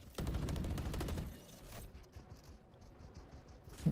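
Swarm grenade and molly abilities going off in a tactical shooter game, a rapid crackling fusillade of small pops for over a second, then settling into a softer sizzling patter, with no talking.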